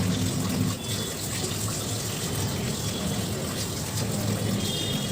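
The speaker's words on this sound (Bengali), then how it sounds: "আবারও আমি ফিশগুলোকে ভালো করে ধুয়ে নেব।" Tap water runs in a steady, loud gush while fish are washed in a kitchen for a crispy fish fry, continuous for the whole stretch with no talk.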